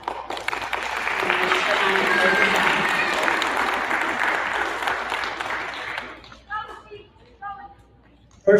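Applause from the audience at a 5th grade awards assembly for character award winners, steady clapping for about six seconds that fades out, followed by scattered voices.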